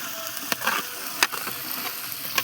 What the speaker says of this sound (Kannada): ದರ್ಶನ್ ಜಿ ಅವರು ಒಗ್ಗರಣೆಗೆ ಈರುಳ್ಳಿಯನ್ನು ಸೇರಿಸುತ್ತಿದ್ದಾರೆ ಅದನ್ನು ಗೋರಾಡುತ್ತಿದ್ದಾರೆ